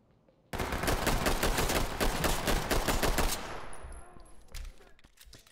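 Rapid pistol gunshots in the tactical shooter game Ready or Not, a loud, dense burst of sharp shots for about three seconds, then a few scattered shots and fading echoes.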